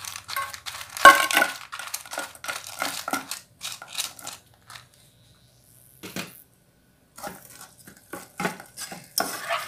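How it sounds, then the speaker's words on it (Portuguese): Chopped onion sautéing in a little olive oil, a light sizzle under clattering spoon scrapes and pan knocks, close and busy with a brief quiet stretch midway, no talk. "Vou dar uma refogada até ele amolecer."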